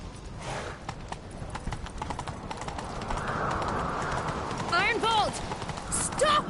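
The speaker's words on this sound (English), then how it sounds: "Grab a horse, we'll chase him down." A horse gallops in The Witcher 3, steady hoofbeats running throughout under a rising wash of wind and movement, with a neigh near the end amid game effects and faint voices.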